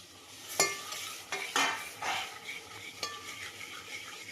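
Coconut paste frying in oil for a Maharashtrian chicken curry, a soft low sizzle broken by several distinct clinks and scrapes of a spoon against the pan.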